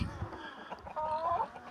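Domestic pigeons kept by a breeder give short cooing calls close by, a few warbling notes in quick succession over faint background noise.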